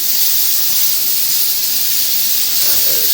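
Bacon fries in a pan on the hottest hob setting, giving a loud, continuous close sizzle and hiss with faint crackles and no voices.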